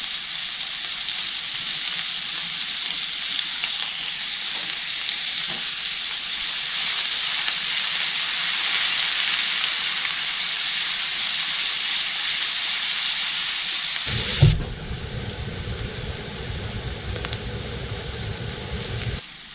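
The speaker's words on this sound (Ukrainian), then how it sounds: "Додаю цибульку та обсмажую" Onions sizzle loudly in a hot pan still greasy from frying sausages, a constant bright hiss; near the end a stir or toss shifts the sound to a rougher crackle.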